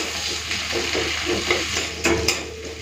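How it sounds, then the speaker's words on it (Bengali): Onion and garlic fry in a pan with a continuous sizzle, broken by a rhythmic series of stirring scrapes and a couple of sharper spatula knocks, close and without talk. "পেঁয়াজ রসুনটাকে হালকা ভেজে নিয়েছি"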